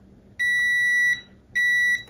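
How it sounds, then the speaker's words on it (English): A continuity tester gives two clean, steady electronic beeps while probing between two pins during an Atari 800XL refurbishment and S-video mod: the first lasts nearly a second and the second is shorter, with quiet room hiss between them. "Let's hope we get a nice little beep."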